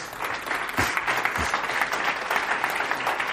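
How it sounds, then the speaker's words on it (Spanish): An audience at a church congress applauds steadily throughout, a dense, even wash of many hands clapping at a moderate distance, with no speech over it. "Vuestro aplauso ha hecho erizar mi pelo."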